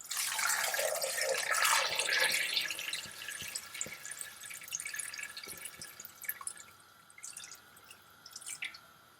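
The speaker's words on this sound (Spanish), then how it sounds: "Echamos el pollo, lo cubrimos bien de agua" Water from a tap runs onto chicken pieces in a pot for chicken croquettes. A strong splashing pour fades after about two seconds into scattered drips and small plinks, close and quiet.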